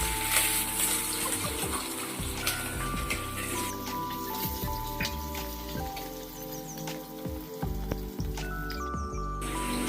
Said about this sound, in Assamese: মই তেল দিয়ে দিলোঁ, মাছখিনি এতিয়া মই ভাজি লওঁ